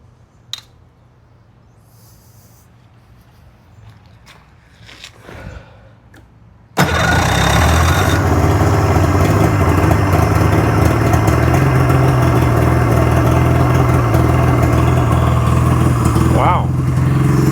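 A Polaris 650 RXL personal watercraft engine, restored after a starter solenoid ground fault, cranks over and catches, then settles into a loud, steady, close-up idle that runs on after a quiet stretch of handling noise.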